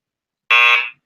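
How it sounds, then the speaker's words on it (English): A single loud, harsh electronic quiz buzzer blares for about half a second, sharp and close, then cuts off. "just under the buzzer"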